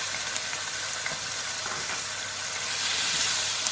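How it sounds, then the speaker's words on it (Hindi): Small chicken cubes frying in an oiled pan, a continuous close sizzle and hiss with faint crackles throughout, no speech. "पहले हम चिकन को थोड़ा सा फ्राई करेंगे"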